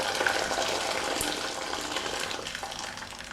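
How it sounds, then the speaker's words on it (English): Boiling water pours from a kettle over potatoes in a pot, a close, steady gushing splash that gradually fades as the stream tapers off. "Now we pour the boiling water over the potatoes"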